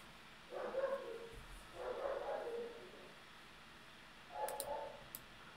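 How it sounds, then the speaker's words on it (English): A dog barks in a house in three separate bursts, somewhat distant and muffled, with quiet room tone between them and a couple of faint clicks. "My dog is barking."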